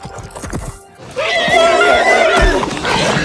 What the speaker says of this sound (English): That horse is half mad, my lord.